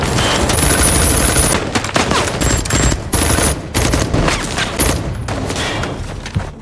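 Sustained sniper and automatic gunfire in an action film, a dense, loud barrage of overlapping shots and booms with no pauses.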